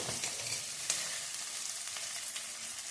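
A yogurt-based ground paste fries in a pan, giving a quiet, steady sizzle with light crackles and a faint stirring tap, no voices.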